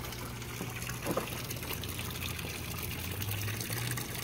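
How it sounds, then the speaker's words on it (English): Water drains through a white overflow pipe into an aquaponics sump tank, a steady low trickling flow running quietly and continuously throughout. "That's an overflow pipe, so this one drains through that white pipe."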